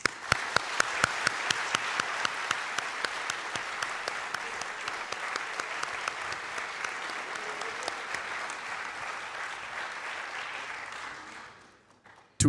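A graduation ceremony crowd breaks into sustained applause, dense steady clapping with a few sharper claps on top, holding for about ten seconds before tapering off into near silence.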